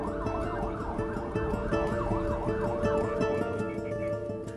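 Wailing ambulance siren in Neza, Mexico, arriving at a hospital emergency entrance, a continuous rising and falling yelp, loud and close, heard alone over vehicle rumble.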